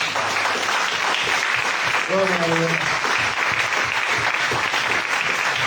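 A church congregation claps for Christ during a service, dense steady applause under a voice that speaks briefly over it.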